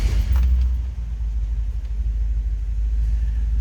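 A 1961 Ford Thunderbird 2-door hardtop V8 settles into a steady, deep low rumble after starting, with an idle that stays fairly even and close throughout, no voices present.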